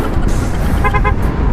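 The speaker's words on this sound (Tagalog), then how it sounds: "Kaya gamitin natin ating busina hanggat kaya natin." A motorcycle horn on a night ride from Bicol to Pasig gives a few short, loud, close toots in quick succession over steady road and engine rumble.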